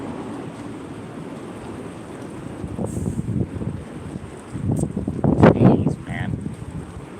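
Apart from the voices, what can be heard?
strong wind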